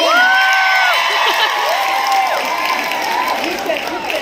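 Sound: audience cheering

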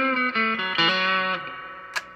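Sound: electric guitar through 1978 Roland GA-20 amp, distortion, bridge pickup

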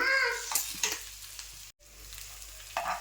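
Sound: stirring egg and potato mixture frying in a pan

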